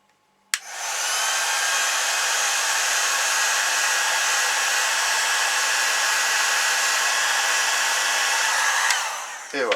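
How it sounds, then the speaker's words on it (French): Heat gun blowing hot air to shrink heat-shrink tubing over a soldered wire splice, a steady loud whirring rush that starts abruptly, holds for about eight seconds and then cuts off, with no talk. "Un petit bout de gaine thermorétractable. Le pistolet chauffant."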